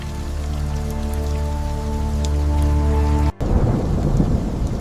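A heavy thunderstorm roars, with steady rain hissing under a long rumble of thunder and low droning tones, then a sudden loud crack followed by dense, close rainfall.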